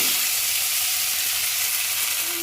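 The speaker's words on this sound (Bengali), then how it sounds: "ডালটা ধুয়ে রেখে দিয়েছিলাম, ওইটা কড়াই দিতে এখন আওয়াজ হচ্ছে" Washed lentils sizzle loudly in a hot pan, a dense, even hiss that holds steady throughout with no voices.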